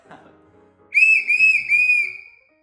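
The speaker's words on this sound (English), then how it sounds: "so that's the whistle" A shrill, piercing plastic safety whistle blown hard in three long blasts, very loud and close, after a moment of faint background noise.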